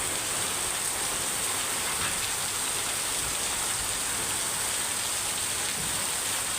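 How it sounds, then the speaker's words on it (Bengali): Heavy rain pours on a street as a dense, steady hiss with no letup and no voices. "জোরে বৃষ্টি আসতেছে"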